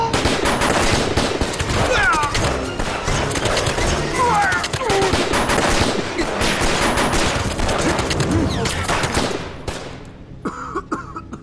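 Heavy gunfire in an anti-Japanese-war martial arts film: loud, dense bursts of rapid shots and volleys pour out nearly nonstop, then break off near the end, leaving a few quieter scattered sounds.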